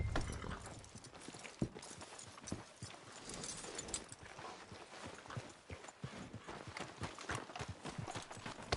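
Horse hooves clip-clop in Red Dead Redemption 2, a steady run of quiet, close hoofbeats at a brisk gait over faint background noise.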